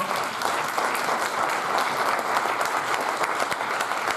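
Steady, dense audience applause fills a hall during a lecture on the Veneto and the mafia, sustained at an even level throughout without pause.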